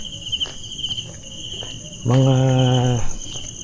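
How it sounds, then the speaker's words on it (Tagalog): Crickets chirp at midnight during a solo exploration of a dark site, a steady high-pitched trill that runs throughout, with a brief voice and a louder buzzing burst near the end. "parang kuliglig na"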